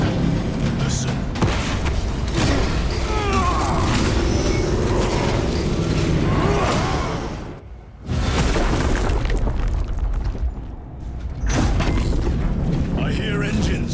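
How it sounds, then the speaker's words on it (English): Heavy engines rumble and roar in a dramatic sci-fi scene, with booming mechanical bursts and a brief drop before the din returns, under tense dialogue. "I hear engines."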